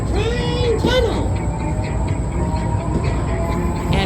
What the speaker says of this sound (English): approached the tunnel. Train tunnel!